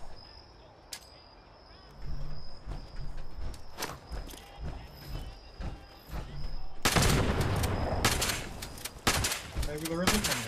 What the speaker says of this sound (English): I'm totally shooting him as well.